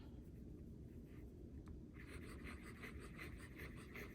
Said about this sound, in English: This has feedback when you write.